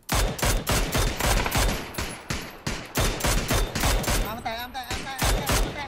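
Loud, rhythmic rapid-fire bursts of gunfire in a PUBG match, shots cracking in quick succession with brief gaps, a voice occasionally heard under the shooting.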